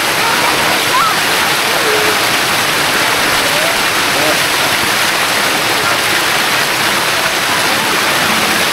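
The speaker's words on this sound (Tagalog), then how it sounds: "Tapos ayun lang pala yung falls." A small waterfall in summer, low in flow, rushes as a constant broadband roar close by, with faint voices nearly buried beneath the water.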